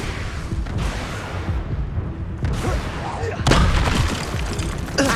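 The Exploso blast spell goes off in Hogwarts Legacy as booming thuds, with a louder burst near the end, beneath a game soundscape and a voice speaking.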